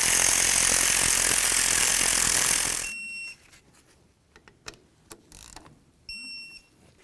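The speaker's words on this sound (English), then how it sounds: "Once they're started, snug them up, torque them to 42 foot-pounds." Ratchet snugging the caliper slider bolts on a 1999-2007 Ford F-250 Super Duty: a few sparse, close mechanical clicks that follow a loud steady hiss at the start.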